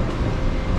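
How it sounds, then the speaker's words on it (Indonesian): An LRT train rumbles through Masjid Jamek station in Kuala Lumpur, a loud, close, continuous rolling roar of rail cars with no talking. "Inilah suasana stesen LRT Masjid Jami."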